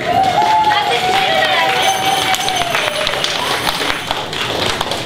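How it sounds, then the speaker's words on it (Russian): A crowd at a tribal weekend game applauds to vote for a team, a dense, loud wash of clapping with a long whistle and scattered cheers, sustained for several seconds. "Итак, команда с головой. Аплодисменты"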